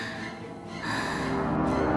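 A woman panting heavily in a frightened moment, a close, breathy rush of gasping breaths that grows louder and steadier toward the end.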